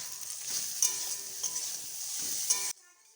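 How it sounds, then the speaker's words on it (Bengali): Eggplant pieces fry with turmeric in a pan, giving a soft continuous sizzle broken by a few light scraping stirs before stopping abruptly near the end, with no voices. "এবার হলুদ দিয়েও কিছুক্ষণ আবারও ভালো করে ভেজে নেব এই বেগুনগুলোকে"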